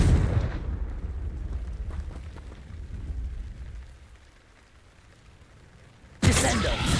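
Confringo fire spell in Hogwarts Legacy, a rumbling fiery blast that fades into crackling ambience, then a sudden loud burst near the end.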